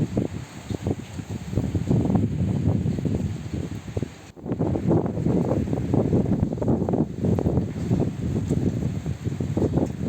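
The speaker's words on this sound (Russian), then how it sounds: "Ого, ветерок." Gusty summer wind blows through rain, a loud, steady broadband buffeting with rustling that swells and eases over ten seconds and dips briefly near the middle.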